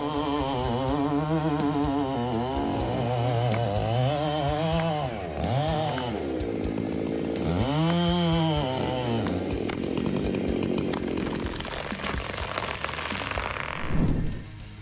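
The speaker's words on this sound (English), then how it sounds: "the classic electric saw finished felling the giant dead tree" An electric chainsaw cuts through a giant dead tree during felling, its motor whining up and down in pitch as it bites and eases off, loud and close throughout.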